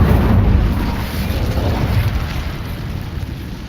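Incendio fire spell cast in Hogwarts Legacy, a loud, dense burst of roaring flame that starts strong and holds steadily for several seconds without fading, no voices over it.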